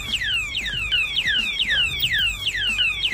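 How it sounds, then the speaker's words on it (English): Oga Protect anti-theft padlock alarm going off, a loud piercing siren of rapid repeating downward-sweeping electronic whoops, close and continuous. "if the disturbance continues, the alarm will go off."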